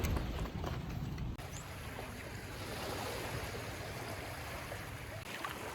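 Steady broadband wash of surf rolling onto Alona Beach, Bohol, continuous and fairly close, with no talking.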